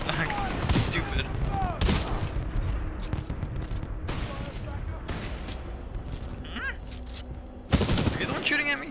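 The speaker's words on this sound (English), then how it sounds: "Are you the one shooting at me?" Bursts of automatic gunfire and sharp shots from a first-person shooter, Titanfall 2, crackle in loud clustered volleys with short pauses, mixed with mechanical clanks and game effects.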